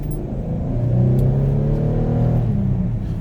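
A 2011 Porsche Cayenne SUV engine accelerates steadily, its low rumble climbing in pitch as it pulls harder, close and loud with no talking.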